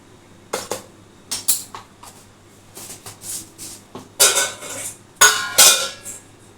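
Semolina cake batter being mixed with baking powder in a bowl, heard as a string of sharp utensil clinks and scrapes against the dish, sparse at first and then louder and denser near the end, with no talking.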